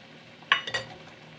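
A spoon stirring yogurt into chicken gravy in a pan makes a few quick scraping strokes in a short burst, faint and close, over a soft background hiss.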